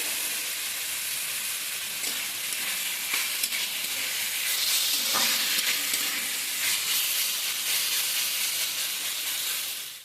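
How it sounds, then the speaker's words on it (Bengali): Peanuts frying in a pan, giving a steady, loud hissing sizzle throughout with faint crackles and no voices. "আমি কটা বাদাম ভেজে নিলাম।"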